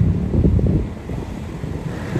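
Steady wind rushing across the microphone in open air at Dolomite Beach on Manila Bay, a continuous low buffeting roar with no voices.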